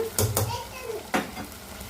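Chicken curry with tomatoes is stirred in a pot, with quick scraping strokes and a low sizzle, two bursts close together, then another stroke a second later.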